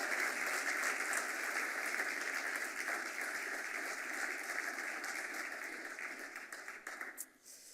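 A round of applause from the audience at an entrepreneur showcase, honoring founders' teams; sustained, dense clapping fills the room for several seconds, fading slightly near the end.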